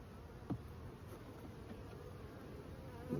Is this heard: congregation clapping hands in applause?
no